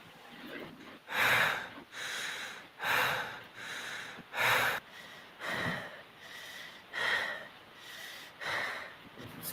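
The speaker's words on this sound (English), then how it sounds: "Heavy breathing." Heavy, synthetic-sounding breathing repeats in about eight close, loud, rhythmic inhale and exhale bursts with brief gaps between them, and no voices.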